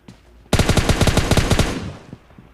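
Rapid automatic gunfire in the mobile shooter PUBG Lite: a dense, loud burst of shots lasting about a second and a half, then fading into quieter game ambience.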